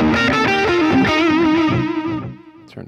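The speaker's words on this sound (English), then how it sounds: "let's go with the digital delay" Distorted electric guitar phrase through a Line 6 POD Express with a digital delay effect, bent sustained notes played loud, then the repeats trailing off after the playing stops.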